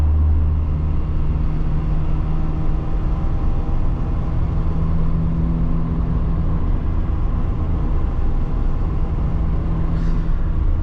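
A 1988 Volkswagen Scirocco 16v being driven, heard as a loud, steady engine and road rumble from inside the car that holds constant throughout, with no talking.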